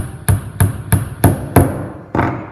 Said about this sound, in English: take the axle, and we're going to hammer it into the center of the wheel